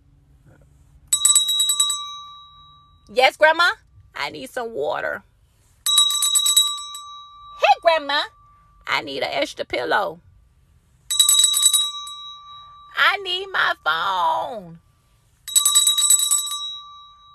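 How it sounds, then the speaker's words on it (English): A small hand bell rung repeatedly in short bright bursts, each lasting about a second, alternating with a child's and an adult's spoken voices in a home setting; the ringing is close and clear. "here's a bell. But ring it and we'll come out and get you whatever you need"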